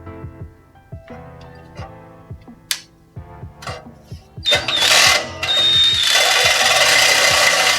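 Power cutting blade biting into the exhaust pipe of a Mazda 3 during a muffler delete, a harsh, loud grinding rasp that starts partway through after ticking, clicking handling noises and runs steadily to the end.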